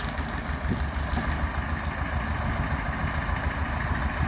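A homemade GNOM-2000 tractor with a D-21 engine from a T-25, idling close by with a steady low chugging rumble and a faint rhythmic pulse, continuous without speech.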